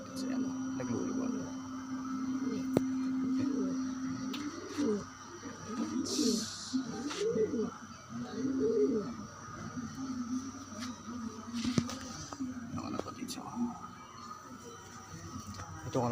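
A male pigeon coos in a close series of soft, throaty, rolling calls, with a person talking intermittently nearby.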